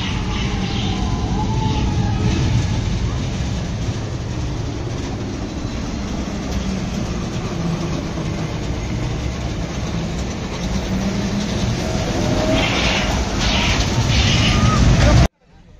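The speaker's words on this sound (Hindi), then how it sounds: "ये लोग ड्रैगन ट्रेन पे घूम रहे हैं।" A dragon train amusement ride rumbles past at a park, a continuous loud rolling clatter with a wind-like rush, while people talk and shout over it before it cuts off abruptly.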